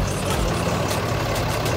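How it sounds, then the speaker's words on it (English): A tractor engine runs close by as it pulls off, a steady low rumble with a slight uneven chug over a couple of seconds. "Now he pulling off in the tractor."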